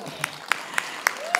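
Hands clap at a live vocal and Bharatanatyam performance event: five sharp, evenly spaced claps about a quarter second apart, close and distinct over a quiet background.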